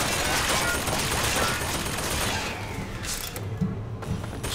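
Enemy gunfire in BioShock Infinite, a dense, continuous roar of rapid shots that fills the clip and eases slightly toward the end, with a few dull thumps.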